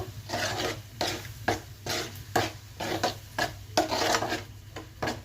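A spoon scrapes and stirs through prawn gravy curry in a pan, giving repeated rhythmic rasping strokes roughly twice a second, close and clear with no talking.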